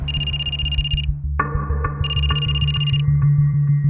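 An electronic phone ringtone plays in repeated bursts, loud and close, with a steady low tone underneath.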